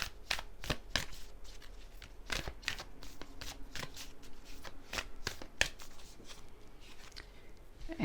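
Tarot cards being shuffled by hand, with close, crisp riffling and slapping of cards in an irregular series of quick bursts, no talking.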